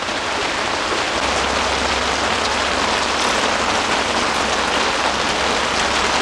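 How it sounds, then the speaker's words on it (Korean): Heavy downpour pounds steadily on a one-touch camping tent at a campsite during a torrential night storm, a dense, loud, unbroken hiss with a low rumbling undertone and no talking. "근데 비 오늘 진짜 많이 와"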